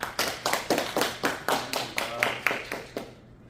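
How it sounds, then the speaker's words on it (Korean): A small audience at an academy briefing claps rhythmically in about a dozen distinct, evenly spaced beats, close and moderately loud, ending abruptly. "박수로 환영해 주십시오"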